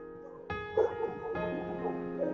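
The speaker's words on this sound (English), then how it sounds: "There go the dogs." Dogs bark nearby in two sudden bursts, each onset sharp and followed by ringing, yelping tones that trail off, set against a steady musical background.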